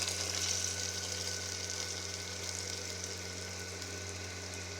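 A hot tempering of chili and mustard seeds is poured into cooked spinach, giving a steady close sizzle that flares briefly at the start and then settles into a soft, even hiss.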